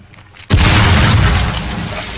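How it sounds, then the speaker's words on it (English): An explosive charge blows a hole in a ceiling in Rainbow Six Siege: a sudden loud boom after a quiet moment, followed by a sustained roar of debris that slowly fades. "I'm blowing the hole up in the ceiling now."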